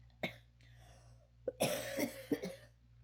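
Several harsh coughs up close from a lingering chest cough: a single cough, then a burst of three or four wet, rough coughs in quick succession.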